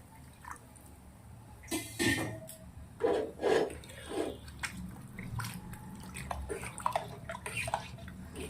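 Water is poured into a pot of well-boiled dal in a home kitchen, coming in a few short splashing bursts with quieter clinks and handling sounds between them.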